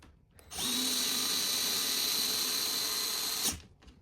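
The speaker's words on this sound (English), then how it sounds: "Got my electric screwdriver right here." An electric screwdriver drives a screw while a model airplane stand is assembled, a steady high motor whine running about three seconds with a clear start and stop, loud and close.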